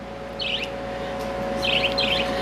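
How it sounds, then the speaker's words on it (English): An albino whiteface cockatiel with red eyes gives a few short, clear chirps, one single and then a quick pair, over a quiet indoor background with a steady electrical hum. "Here we have an albino white-faced cockatiel."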